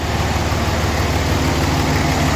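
A freshly started car engine idles loud and close in a steady low rumble, with a continuous even throb and no voices.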